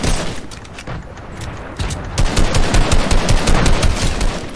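Rapid bursts of video game gunfire, automatic fire crackling in dense volleys that grow louder and more continuous in the second half.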